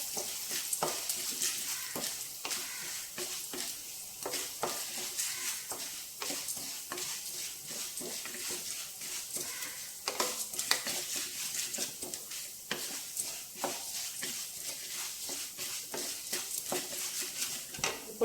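Whole spices — mustard seeds, cumin and coriander seeds — frying in hot oil in a pan, a steady crackling sizzle with scattered sharp pops throughout, close and continuous with no voices.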